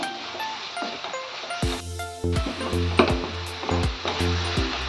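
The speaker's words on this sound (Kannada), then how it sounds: "ಇದು ಚೆನ್ನಾಗಿ ಫ್ರೈ ಆಗಲಿ. ಇದಕ್ಕೆ ನೀರೇನು ಹಾಕಂಗಿಲ್ಲ, ಇದು ಆಯಿಲಲ್ಲೇ ಚೆನ್ನಾಗಿ ಬೇಯುತ್ತೆ." A fish head coated with turmeric sizzling and frying in hot oil, a steady close crackle broken by repeated stirring and scraping knocks.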